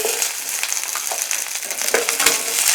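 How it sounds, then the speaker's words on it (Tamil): Small onions (shallots) hit hot oil in a pan and fry with a steady, close crackling sizzle, with a few scraping stirs and no voices. "அடுத்தது சின்ன வெங்காயம், இதை நான் வந்து அப்படியே இதில் ஆட் பண்ணிக்கிறேன்"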